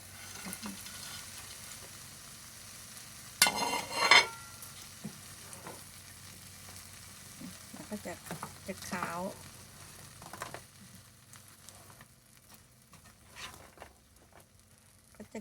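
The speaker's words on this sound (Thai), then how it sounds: "นี่ก็อันนี้พี่ชิ้งนี่จะใส่แคบหมูลงไปนะคะ" Morning glory is stir-fried with curry paste in a pan as pork cracklings are added. A sharp clatter and sizzle comes first, then softer scraping, stirring and crackling, and faint talk can be heard.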